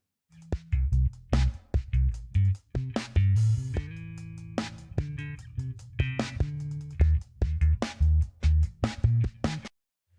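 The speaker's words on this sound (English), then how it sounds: "the bass line is a little bit like syncopated and offbeat" Syncopated offbeat bass line over a drum groove, punchy kicks and snappy hits driving irregular accented bass notes, with brief sustained tones in between; loud, up close and instrumental, ending abruptly.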